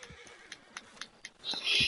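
A horse in the game Red Dead Redemption 2 Online gives a few soft, evenly spaced hoof clops, then a brief, bright whinny at the end.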